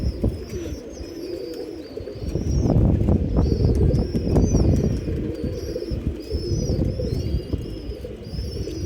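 Pigeons cooing repeatedly in soft low bursts close by, with scattered wing flaps and small chirps over a rumbling outdoor background, no talk.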